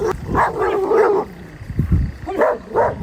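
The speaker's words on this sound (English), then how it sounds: "The dogs, acting on ancient instinct, erupt into a chorus of ferocious, aggressive barking." Several dogs bark aggressively at a bear near a shelter on a giant boulder, loud close barks in two bursts separated by a short pause.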